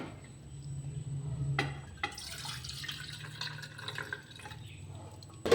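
Excess water is poured off from a cooker where potatoes are boiling: a steady, fairly quiet trickle and splash of liquid running out, with a few sharper spills, heard alone.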